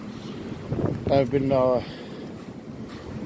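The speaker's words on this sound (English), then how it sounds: "it's too windy of a day anyway, so you probably wouldn't even hear me" Wind blows on a gusty day outdoors during a homemade buggy build, rumbling steadily across the microphone while someone says a few words partway through.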